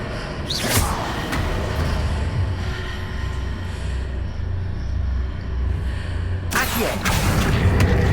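A Confringo blasting spell in Hogwarts Legacy goes off in a sharp, bright blast near the start. A low rumbling bed follows, then a second forceful burst arrives toward the end.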